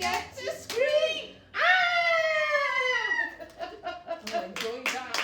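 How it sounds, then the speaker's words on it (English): Voices screaming during a Row, Row, Row Your Boat nursery rhyme at the crocodile line: a long, loud, high wavering scream with singing voices before and after it. "If you see a crocodile, don't forget to scream."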